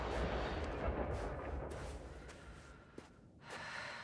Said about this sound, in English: Explosion sound here.